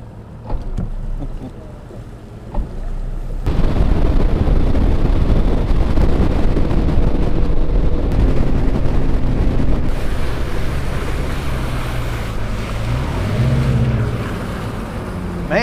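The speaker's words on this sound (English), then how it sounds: "Man, it's a good riding boat." Fishing boat running across Lake Champlain during a final-day tournament, with a loud, steady engine drone, wind buffeting and hull slap on the water after a quieter start.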